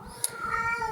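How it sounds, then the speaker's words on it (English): A house cat meows loudly and close by in one drawn-out call, preceded by a brief sharp click, with no voices present. "You are a loud kitty."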